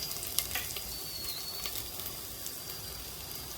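Coconut-onion masala sizzles and crackles steadily in a hot pan as ginger goes in, a close, continuous frying hiss with no voices.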